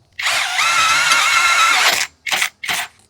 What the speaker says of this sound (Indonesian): untuk pengeboran besi ini harus ada variasinya